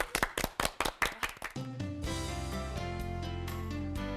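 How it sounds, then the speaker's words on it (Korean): A church congregation at a Bible lecture claps in about eight sharp, evenly spaced beats. The claps fade into sustained organ-like musical tones that carry on to the end. "예, 박수 한번 하시죠"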